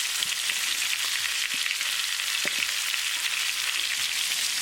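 Cauliflower frying over high heat in oil with masala gives a loud, continuous hissing sizzle, close and steady throughout, with no talking.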